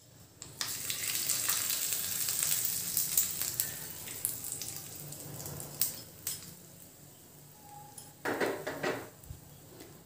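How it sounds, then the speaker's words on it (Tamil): Dried red chilli and curry leaves sizzle in hot oil for an Andhra-style ivy gourd chutney, a steady crackling fry with occasional clinks of a spoon against the pan, fairly quiet and without talk. "இப்போ எண்ணெய் சூடாயிடுச்சு, இதில் நல்லா பொரிஞ்சதும் ஒரு வரமிளகாய் ஒன்று சேர்த்துக்கலாம்."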